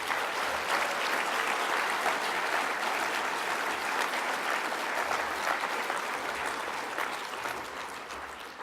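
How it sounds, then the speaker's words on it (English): A large audience at a national party political conference applauds steadily, a dense wash of clapping that holds for several seconds before gradually fading near the end. "So let's give them a huge round of applause"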